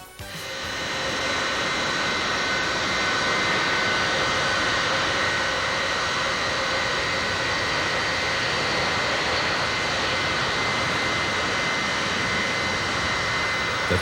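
A Boeing B-52 bomber with eight Pratt & Whitney jet engines makes a loud, continuous roar that holds steady throughout, with no other sound over it.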